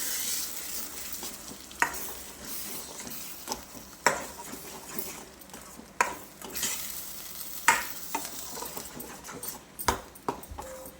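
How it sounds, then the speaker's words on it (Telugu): Mixed vegetables frying in a pan of tempering for Karnataka-style vegetable sagu, a steady sizzle broken by sharp clinks and scrapes of a stirring spoon every second or two, close and moderately loud with no talking. "కొంచెం ఇది వేగినాక వేగుతా ఉంది"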